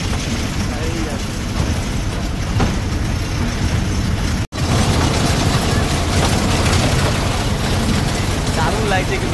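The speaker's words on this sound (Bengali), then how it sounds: "আমরা কিন্তু টয় ট্রেনে করে যাচ্ছি, দেখতে পাচ্ছ।" Steady, loud rumble and rattle of a toy train ride at the Howrah Rail Museum, continuous mechanical clatter filling the whole stretch with one sharp dropout midway, heard close from on board.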